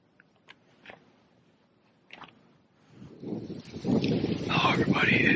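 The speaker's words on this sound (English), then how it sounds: "As you can probably hear, it is very windy this morning." Strong morning wind buffets the microphone outdoors at the edge of a field during a Michigan archery hunt, starting with a few faint knocks then swelling into a steady, loud roaring rush.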